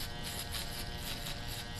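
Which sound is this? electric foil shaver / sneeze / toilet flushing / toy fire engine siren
electric foil shaver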